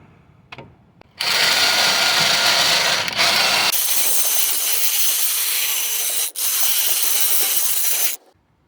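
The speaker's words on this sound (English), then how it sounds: "I'm gonna clean the bracket here with a metal brush, with a drill here." A drill-driven wire brush grinds loudly against a metal suspension bracket on a Toyota Sienna in a long harsh hissing scrape, briefly pausing once, close up and continuous until it cuts off.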